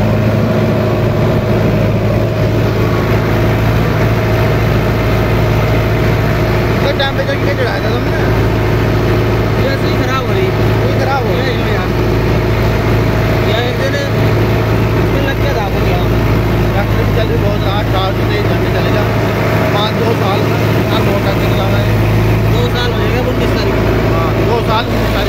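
A Sonalika Tiger DI 55 tractor with a 58 hp engine runs in a loud, steady drone with a strong low hum, while someone talks over it the whole time.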